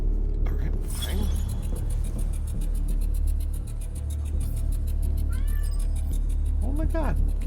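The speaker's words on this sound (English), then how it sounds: "Oh my god, cat." A cat meows several times in drawn-out, wavering cries with a caterwauling edge, close and loud over a steady low rumble, with a person speaking at points.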